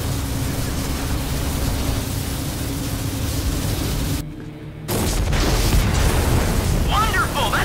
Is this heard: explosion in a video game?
yes